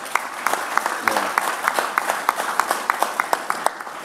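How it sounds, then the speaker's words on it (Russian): An audience claps for veterans at a gathering; a steady patter of applause runs throughout, with a few louder, distinct hand claps standing out near the front, and a voice briefly speaks over it. "ветеранам еще раз вот аплодисменты"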